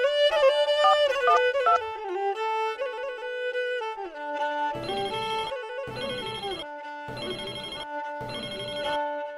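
A telephone plays a loud melodic ringtone up close, a tune followed by four evenly spaced repeating bursts with no talk.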